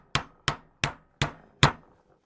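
Five evenly spaced sharp hammer taps while fitting parts into a Webley Vulcan air rifle, each a crisp close knock with a quick decay, the last slightly louder.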